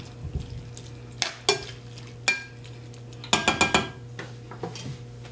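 Corn and tomatoes stirred in a pot, with scattered close scrapes and knocks of a spoon against the pot, including one quick cluster of strokes, over a steady low hum and faint cooking sizzle.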